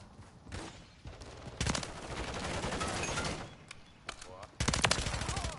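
Automatic gunfire in Modern Warfare 3 comes in repeated rapid bursts, loud and close, with gaps between volleys and a heavier final flurry; game voices and talk run underneath.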